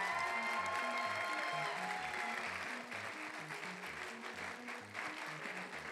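A convention audience at closing ceremonies applauds sponsors and patrons, soft steady clapping from a crowd heard at a distance under a low rhythmic music beat, fading a little partway through.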